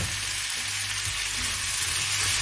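Broccoli and mixed vegetables sautéing in a pan, a loud, close, continuous sizzle with a steady bed of frying noise and faint stirring throughout.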